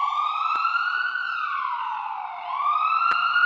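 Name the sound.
ambulance siren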